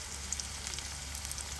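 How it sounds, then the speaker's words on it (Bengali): Chopped onions sizzle steadily in hot oil in a home kitchen, a soft, even frying hiss with faint crackles throughout. "এখন পেঁয়াজ কুচি দিয়ে দিলাম তেলের মধ্যে। এই তো পেঁয়াজটা ভেজে নিতেছি ভালোভাবে।"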